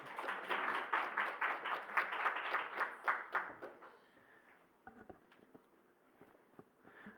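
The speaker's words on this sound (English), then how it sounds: "You can give him a round of applause." Modest crowd clapping at a report launch event, a few seconds of steady applause at moderate distance that dies away into quiet room noise with a few faint knocks and shuffles.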